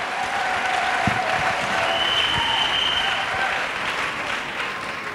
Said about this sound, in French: Let us clap for,